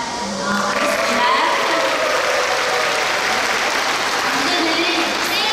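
An audience claps at the Suwon choir festival on an outdoor stage, loud sustained applause from a large crowd that starts abruptly and holds steady to the end.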